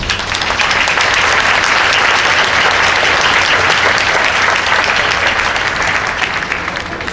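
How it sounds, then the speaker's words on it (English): Sustained, loud applause from an outdoor audience at a memorial ribbon-cutting ceremony, dense steady clapping filling the whole stretch without pause before easing slightly at the end. "Please give them a round of applause."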